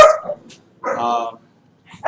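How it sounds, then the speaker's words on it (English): A dog barks in short bursts at a moderate distance, a few sharp yaps separated by silent gaps, with some talking mixed in. "Dog's barking."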